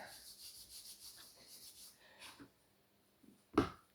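A hand rubs salt into raw meat to preserve it, making soft, close, scratchy rubbing strokes that fade out, followed by a single louder thump.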